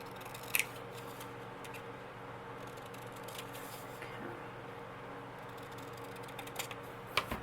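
Scissors snip small printed paper tags for a Valentine recipe craft, producing a few faint, quiet cuts at the start and end over a low room hum, with no talk.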